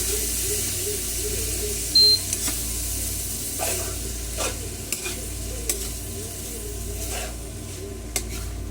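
Tofu sisig being stirred quickly with mayonnaise in a pan: a steady low sizzle with repeated scraping strokes of the spoon against the pan, close and moderately loud, no voices.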